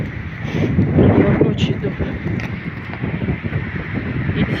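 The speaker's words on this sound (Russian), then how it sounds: "Слышите, как завывает? У нас ураганный ветер." Hurricane-force wind roars and buffets a microphone at night, a loud, rough, steady rush with gusty swells, while someone speaks briefly over it.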